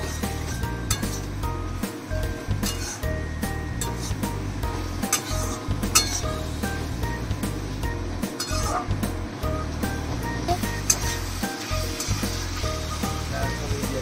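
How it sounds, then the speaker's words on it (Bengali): Vegetables for veg hakka noodles being stirred with chili and tomato sauces in a pan, with steady clinks of a utensil against the pan over a soft continuous sizzle, close and moderately loud throughout. "এবার সমস্ত সসগুলো সবজিগুলোর সঙ্গে ভালোভাবে নেড়েচেড়ে মিশিয়ে নেব"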